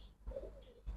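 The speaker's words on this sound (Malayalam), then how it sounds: "പിന്നെ പ്രാവിന്റെ കുറുകൽ." Male pigeon cooing close by, two soft throaty coos separated by a short pause, with no voices or other noise around them.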